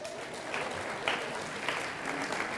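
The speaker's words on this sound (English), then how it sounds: "Can we give the lady for the water a clap," A school audience claps in a broad, steady wash of applause with a few brighter swells, moderately loud and continuous with no talking over it.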